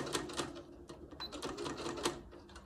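A sewing machine stitches a hot pad from fabric scraps, backstitching a couple of times at the seam's end, with a steady close mechanical clatter of needle strokes and a few sharper knocks.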